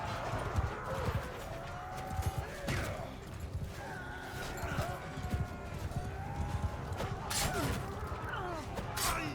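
Horse hooves galloping in Mount & Blade 2: Bannerlord, a steady clip-clop beat running through the whole stretch under battle noise and game effects, with a few sharp thuds breaking in.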